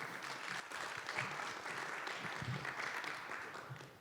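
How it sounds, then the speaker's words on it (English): A press-conference audience at the Tour of the Alps cycling race applauds the stage race winner. The clapping is soft and fairly distant, a steady patter lasting about four seconds with no voices over it. "Please give a round of applause to Romain Bardet, the winner of the 2022 Tour of the Alps"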